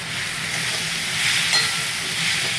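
Noodle ingredients being stir-fried with dark soy sauce for Schezwan or Hakka noodles, a dense, even sizzle with soft stirring underneath, close and steady throughout.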